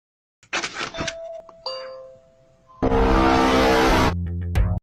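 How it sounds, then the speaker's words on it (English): A novelty dog doorbell rings, with a sharp onset, a tonal chime, then a loud, sustained, bright burst lasting over a second before cutting off. "Number 5, dog doorbell."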